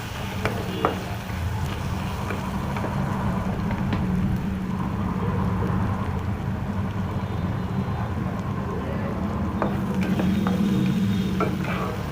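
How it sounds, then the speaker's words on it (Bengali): Garlic and ginger paste frying in a pan with Kashmiri chilli powder, a dense, steady sizzle with occasional stirring knocks, close and continuous. "রসুন আদার কাঁচা গন্ধটা যাবার পর্যন্ত একটু ভালো করে ভাজতে হবে"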